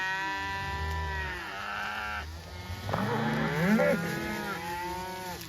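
A large cattle herd bawls, cows calling for their calves with long overlapping moos at various pitches, some near and some farther off, steady throughout.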